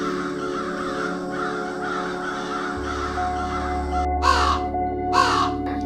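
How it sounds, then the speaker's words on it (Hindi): A crow caws twice in a rural field setting, two short harsh calls standing out close and clear over a steady low background hum. "इस बार भी उसके सर के ऊपर काँव काँव कर चक्कर लगाता है।"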